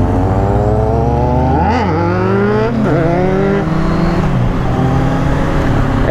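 A motorcycle ridden on a mountain road near Riva del Garda, Lake Garda, its engine droning steadily and close as the pitch rises and falls through gear changes and throttle shifts, with no talking.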